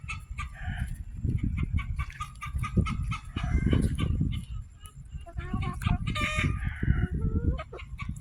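Backyard hens cluck and squawk excitedly as they are handed blueberries, a busy close chorus of chatter with a rooster-like call among them, while someone talks to them over the noise.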